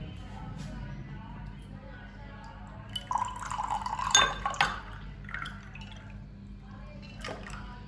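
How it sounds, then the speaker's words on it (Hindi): Sweet sattu sharbat, a summer drink, poured into a glass: a short liquid splash and trickle rising for about two seconds mid-clip, fairly close, over a low steady background hum. "इसको फाइनली हम गिलास में डालते हैं"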